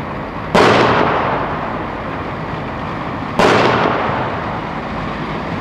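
Two sharp, loud gunshot blasts ring out during combat in Bosnia, spaced about three seconds apart, each cracking close and echoing away over a low background hum.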